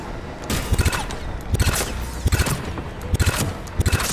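Bursts of submachine-gun fire in Mass Effect 3 at an Asari temple, several rapid rattling volleys spaced about a second apart over a steady background of game noise.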